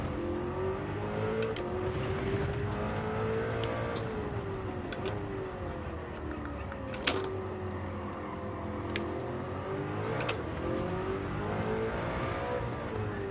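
A race car engine in Gran Turismo 7 revs and growls, its pitch climbing and falling in repeated sweeps as it winds out, with sharp ticks and clicks at intervals, heard at a low, steady level.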